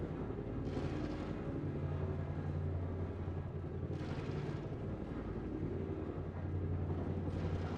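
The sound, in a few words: spaceship engine rumble from a video game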